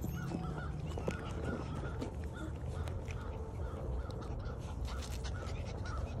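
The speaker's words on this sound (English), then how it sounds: "I hear those birds." Several birds caw and call repeatedly over steady outdoor background noise, some cries close and others farther off.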